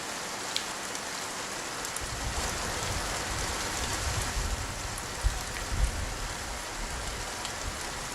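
Steady rain pours onto a surface, a dense even patter with a low rumble swelling now and then.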